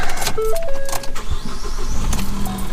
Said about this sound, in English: So we'll go ahead and start her up.